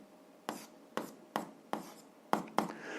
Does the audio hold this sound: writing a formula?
yes